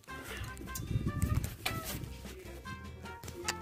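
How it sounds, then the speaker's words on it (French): Birds call and coo outdoors in the Marais, a mix of pigeon-like coos and short chirps at moderate distance, with faint background chatter and ambient noise. "Il y a les oiseaux là-bas."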